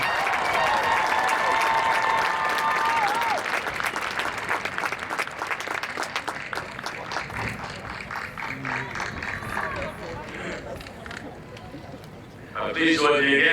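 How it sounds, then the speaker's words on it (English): A graduation ceremony crowd applauds for a class of 2021, dense clapping that gradually thins toward the end while a voice speaks briefly at the start and again as it fades. "Please join me again in giving a round of applause to Dr. Drake"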